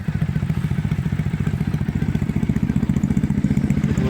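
A Triumph Thruxton 900 motorcycle with wrapped exhaust and loud pipes idles close by, producing a deep, steady, rapid thumping pulse with a throaty, lumpy rumble that continues without pause.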